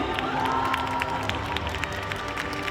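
A theater audience claps and cheers to welcome actors onto the stage at a film's stage greeting, a dense, steady wash of applause and crowd shouts throughout.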